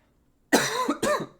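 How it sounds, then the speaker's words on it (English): Two harsh, close coughs in quick succession after a moment of silence. "I'm going to cough real quick."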